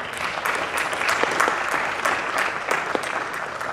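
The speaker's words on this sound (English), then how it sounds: "Please, a warm round of applause" A conference audience at a discussion on tech policy in Africa gives a warm round of applause, lively clapping with distinct sharp claps popping out of a close, steady patter.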